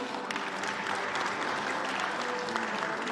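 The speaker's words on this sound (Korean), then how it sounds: "박수 부탁드립니다." Attendees applaud at the 2025 first-trading-day opening ceremony of the Korea Exchange in Yeouido, Seoul, as a lawmaker steps up to give congratulatory remarks. The clapping is steady and even throughout, moderately loud and slightly distant.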